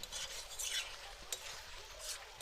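A cauliflower and pumpkin curry is stirred in a pan, with a soft, steady scraping and light sizzle running throughout and a few brighter clinks of the utensil, fairly quiet and without any talking.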